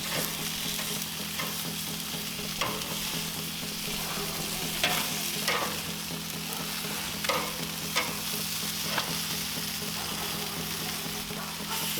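Chicken wings sizzle steadily on a Char-Broil Performance Series gas grill, a constant crackling hiss with a few soft clicks and scrapes as pieces are flipped, fairly quiet and without speech.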